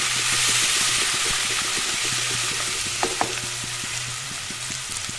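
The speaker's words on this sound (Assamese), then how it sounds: "সেই তেলতে এনেদৰে ভাজি ল'ম" Ginger, garlic and chili paste fries in oil with a continuous, close crackling sizzle, fairly loud and even, with a couple of light taps partway through and a low rhythmic pulse beneath.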